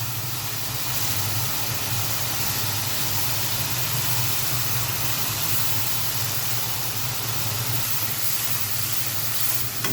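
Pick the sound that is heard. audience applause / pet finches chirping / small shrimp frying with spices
small shrimp frying with spices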